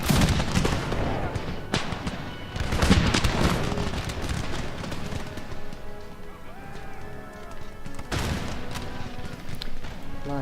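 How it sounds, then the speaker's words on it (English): Musket volleys in a battle of the strategy game Empire: Total War, France campaign against Dutch rebels, with repeated rolling bursts of gunfire, loud at first then more scattered, over battlefield ambience. "Our boys are now firing."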